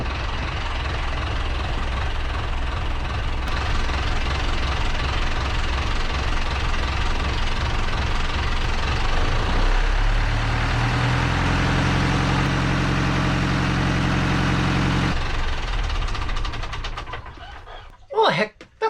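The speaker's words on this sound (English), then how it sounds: "So let's start the engine again." Marine engine on a boat near Desolation Sound and Cortes Island in British Columbia, running steadily, then a low, even idle settles in after startup, continuous and fairly loud, cutting out near the end with a few brief bumps.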